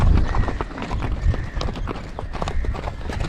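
Horse hooves clip-clop steadily on a trail ride in Kyrgyzstan, the repeated strikes close and moderately loud over a busy outdoor background, with an occasional whinny.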